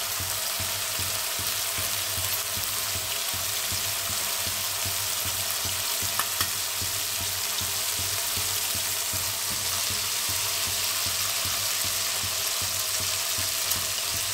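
Grated coconut fries in hot oil for a Bengali chana dal, a constant close sizzle and bubbling hiss with faint stirring, holding steady for a long stretch without speech.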